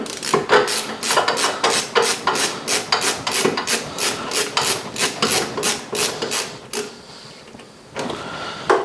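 Close, rhythmic ratcheting clicks of a spool holder being fastened onto a Bambu P1P 3D printer, a steady run of sharp, evenly spaced clicks that thins out near the end with a few scattered knocks.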